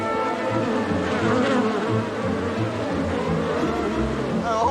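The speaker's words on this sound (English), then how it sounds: "you've got a massive beehive on the back of it" Loud, steady buzzing of many bees from a large beehive carried on the back of a vehicle fills the whole clip, with a low engine-like hum underneath.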